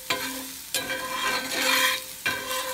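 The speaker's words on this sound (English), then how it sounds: "We're going to mince the garlic. And throw it in the oil." Minced fresh garlic frying in hot olive oil, a steady bright sizzle with a few stirring scrapes and bursts, close and fairly loud with no voices.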